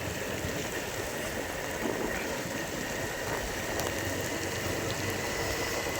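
Rain falls steadily over a village, a dense, even hiss of drops that holds at the same loudness from start to finish with no voices.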